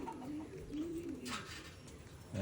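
A free-flying black check racing pigeon coos softly and close by, giving a few low, rolling warbles over a quiet background.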